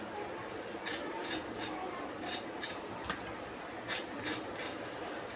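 Spoon tapping and pressing into a crispy fried homemade snack, giving a few light clinks and crunchy taps close up against steady kitchen background noise.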